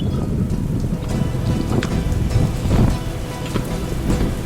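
Heavy rain patters steadily on boat cockpit covers overhead, a dense close drumming with occasional louder drops and a low background rumble.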